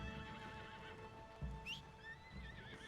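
Horses whinny in Red Dead Redemption 2, high wavering neighs over a low rumble of hooves, with one sharper, louder call partway through and softer calls fading after, no talk.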